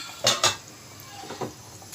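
Metal lid set back onto a cooking pot of arvi chicken shorba, giving two sharp close clanks in quick succession and then a few softer clinks in a quiet kitchen.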